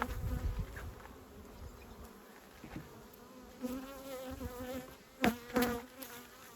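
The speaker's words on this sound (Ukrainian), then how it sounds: "Дуже багато бджоли." Steady droning buzz of many honeybees close by at an apiary hive, with occasional louder passes as individual bees fly near.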